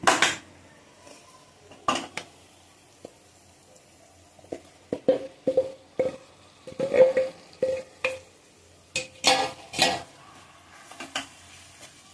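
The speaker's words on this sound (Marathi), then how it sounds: "इथे फ्लावर आणि वाटाणे मॅश करून घेते" Cauliflower and peas are mashed in a pan for raw banana pav bhaji: irregular bursts of metal masher scraping and clanking against the pan, close and clear, with quiet pauses between strokes.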